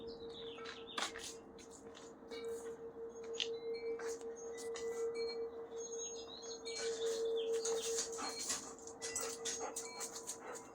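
Dog whimpering and panting softly nearby over about ten seconds, with birds chirping in the background and a steady low hum throughout.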